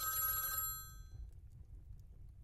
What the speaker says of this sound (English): Inside, the phone suddenly rang